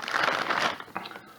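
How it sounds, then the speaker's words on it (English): Thin plastic bag crinkling as an Aero Precision slick side AR-15 upper receiver is pulled out of it, a dense close rustle that gradually trails off into a few scattered crinkles. "it's inside this little plastic bag, and you just go ahead and take it out"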